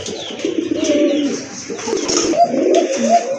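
Red pied pigeons at a pigeon sale coo loudly and repeatedly up close, in overlapping throaty rolls throughout.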